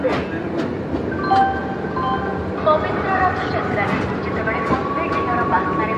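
The Puri–Howrah 12838 Superfast Express rumbles out of Puri station with rhythmic clacking and squealing wheels, as people talk in the carriage over the steady noise.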